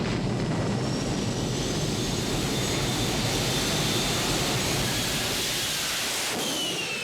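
A scratch-built jet car from Thrust Racing roars with a loud, continuous broadband blast and thin whining tones, sustained at full volume before the sound drops away near the end.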